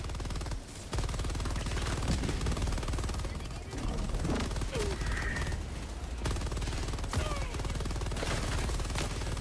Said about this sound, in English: Well, good thing there's mounted machine guns here.